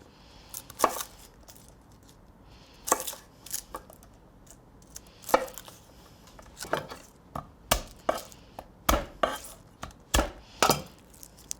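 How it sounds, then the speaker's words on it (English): Fresh garlic cloves are smashed with a knife on a board to loosen their skins, a series of sharp, close knocks and thumps in irregular bursts with no talk. "You smash them like that to get the skins off."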